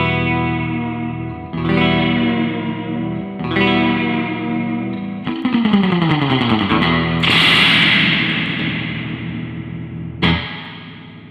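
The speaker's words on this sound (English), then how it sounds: "I've never heard of a reverb that sounds better for surf than one of these Fender Reverb boxes." Surf guitar run through a Fender Reverb box, bright twangy chords and a rapid tremolo-picked glissando swimming in heavy spring reverb and echo, loud and alone with no talk.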